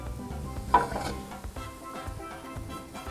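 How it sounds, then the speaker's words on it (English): Onion mixture tipped onto browned meat in a stew pan for beef stew, giving a steady sizzle with stirring and a brief clank of a utensil near the start, close and continuous with no talking. "I have my meat over here, and I'm going to add my onion mixture"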